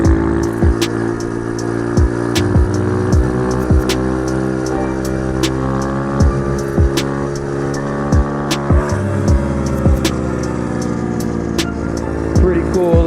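Small Icebear Champion 125 minibike, a CT70 clone, with its engine buzzing steadily during a wheelie, heard close, with regular clicks and knocks from the bike over the continuous drone.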